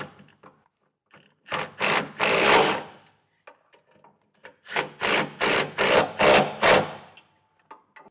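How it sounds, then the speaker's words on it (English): A ratchet with a 1/2 inch socket snugs up nuts on a fifth-wheel underbed hitch bracket under a 2024 GMC Sierra, two close bursts of rapid clicking strokes, a short one then a longer run of six quick pulls. "Then we'll take a 1/2" socket and snug these up."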